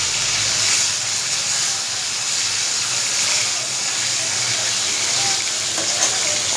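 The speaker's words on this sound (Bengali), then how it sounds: "মাছ আনলো আজকে রুই মাছ, তো রুই মাছটাই ভাজছি" Rohu fish frying in a pan in a home kitchen, giving an even, continuous hiss that stays nearby and steady throughout.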